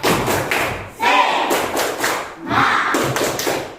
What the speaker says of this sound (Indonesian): Yuk kita semuanya sama-sama tepuk semangat.